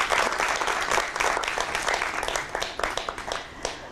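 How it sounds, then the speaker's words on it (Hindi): A studio audience at a television show applauds loudly and steadily, a dense wash of clapping with sharper individual claps that tapers slightly toward the end. "जोरदार तालियां उन लोगों के लिए हो जाएं"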